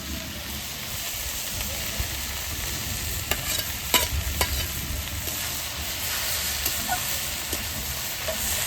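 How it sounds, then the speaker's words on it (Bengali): Large prawns go into a pan with green chilli and ground roasted cumin and fry with a steady close sizzle, while a spatula stirs and scrapes in scattered knocks and scrapes across the whole stretch. "এবারে চিংড়ি মাছটাও দিয়ে দেবো"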